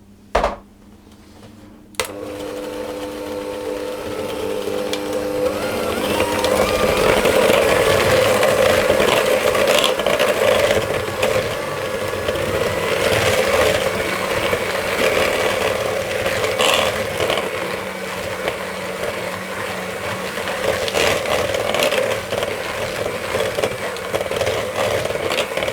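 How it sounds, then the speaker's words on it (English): Black treacle molasses cookie dough being beaten with oil in a mixing bowl, a steady loud whirring and rattling that runs unbroken for about twenty-four seconds after a brief click at the start, with no talking. "Then I'm going to put the 2 tablespoons of oil in, and I'm going to beat that until it's all combined."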